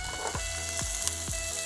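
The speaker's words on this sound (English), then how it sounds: "You can hear the sizzling." Octopus or seafood frying in a hot pan, a continuous close sizzle with a few soft periodic clicks running through it, heard alone without any voices.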